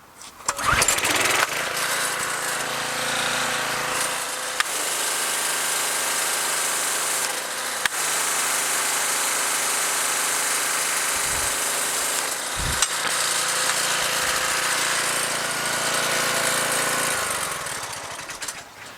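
A Craftsman 2500 PSI pressure washer engine runs loud and steady for most of the span, starting up with a rough burst and dipping briefly near the end, with a few thumps; no speech.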